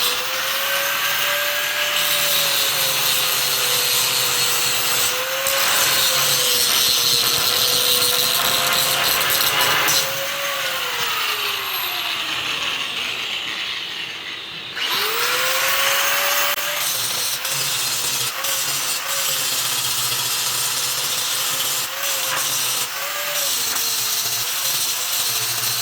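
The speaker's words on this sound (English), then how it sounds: "he's just gonna grind the weld down now" An angle grinder grinds a weld down on a stretched Kodiak Topkick truck frame, a loud continuous harsh whine and grinding roar that stays close and steady. The pitch dips briefly in the middle before the tool spins back up.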